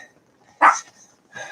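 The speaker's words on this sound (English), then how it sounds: "Shut up, dog." A single loud dog bark bursts out near the mic, followed by a softer second bark or yelp a moment later in an otherwise quiet room.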